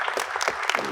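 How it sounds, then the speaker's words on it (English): A round of applause fills a school district's State of the District 2022 event, dense clapping from the audience sustained close and loud for the whole moment, with no voices on top. "Round of applause."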